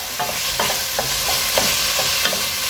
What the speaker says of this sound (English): we're going to chuck this in, get this nice and browned in the oil